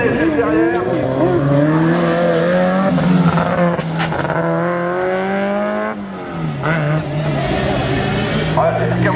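A rally car at a French slalom event snarls through a chicane, its engine revving up and down with sharp gear changes and brief tire squeal, while a commentator talks over it.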